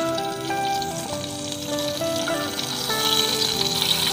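Shallots frying in hot oil in an outdoor kitchen on an oil palm plantation, a steady close crackling sizzle with splatter running the whole time, under tonal background sound.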